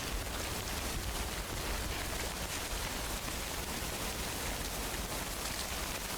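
Steady rain hisses without a break in the video game Death Stranding, an even wash of falling water with no voices over it.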